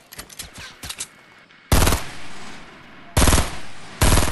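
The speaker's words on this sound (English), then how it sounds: "They're getting shot at." Fortnite gunfire: a few light scattered shots, then three loud sustained bursts of rapid automatic fire separated by short pauses, with no talking.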